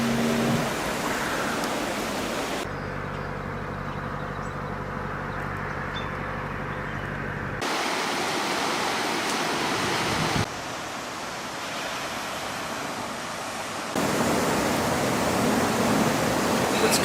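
Steady broadband rush of flowing water from Pleasant Creek in Cumberland, a continuous hiss whose level and texture shift between sections as if the listening spot moves, with no talk over it.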